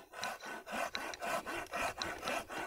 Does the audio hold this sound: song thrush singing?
no